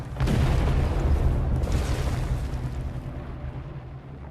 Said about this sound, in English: big explosions